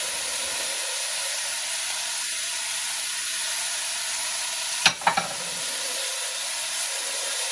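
Ground meat browns and sizzles in a hot pan, a steady close frying hiss with brief stirring clatter partway through.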